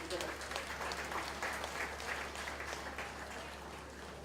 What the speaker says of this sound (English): round of applause to each and every one of these Division 3